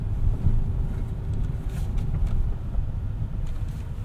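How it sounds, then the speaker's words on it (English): A 2026 Hyundai Palisade XRT Pro SUV pulling away over an off-road trail, a low muffled engine drone mixed with wind buffeting and rustling knocks from the terrain, with no talking. "Let's see how it likes us accelerating out of this."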